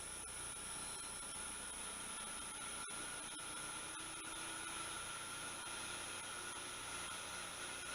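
A three-phase motor on a vertical spindle runs from single-phase power through a VFD, giving a steady continuous hum with a high-pitched electronic whine throughout, fairly faint and unbroken, with no talking.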